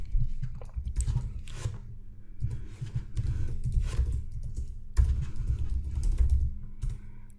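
Close typing on a computer keyboard while an email is entered during a Shopify store setup: uneven bursts of soft key clicks over a low steady hum.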